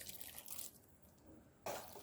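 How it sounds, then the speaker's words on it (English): Water pours into a pot of parboiled jollof rice with a brief liquid splash and trickle, fairly faint and close, with a stronger burst of pouring near the end. "I have to add in a little water at this point."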